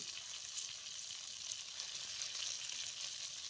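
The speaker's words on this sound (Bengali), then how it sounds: "বেগুনটাকে দিয়ে দিয়েছি কড়ার মধ্যে, এখন হচ্ছে।" Eggplant fries in a kadai with a soft, even sizzle that holds steady throughout, with no voices.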